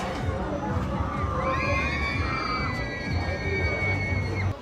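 A dense crowd roars and shrieks continuously at the Arizona State Fair, a loud steady wash of voices with a few higher screams rising above it.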